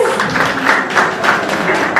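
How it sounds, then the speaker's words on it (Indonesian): Audience applause at a film press conference, a dense steady patter of many hands clapping for two seconds, fairly loud and close. "Kasih tepuk tangan teman-teman"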